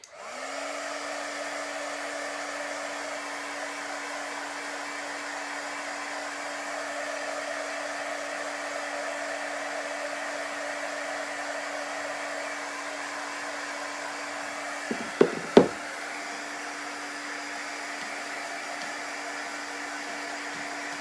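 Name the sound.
dryer drying chalk paste on craft piece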